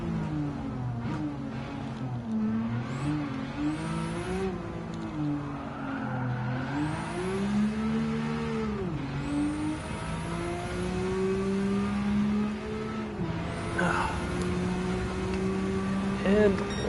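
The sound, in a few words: race car driving in video game Gran Turismo 7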